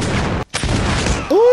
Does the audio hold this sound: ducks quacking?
no